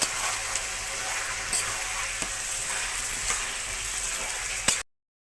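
Beef liver fries with spices in a pan, a loud, dense, steady sizzle with a few spoon scrapes and clicks, ending abruptly in silence.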